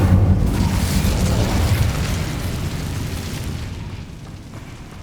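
A fire spell called Incendio is cast in a Harry Potter video game, giving a loud, low booming whoosh that bursts at once and then slowly fades across several seconds.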